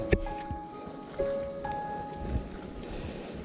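Rain falling on a wet, humid mountain trail during a September hike on the Kassen ridge, a steady soft patter with a few sharper drops and faint tones near the start.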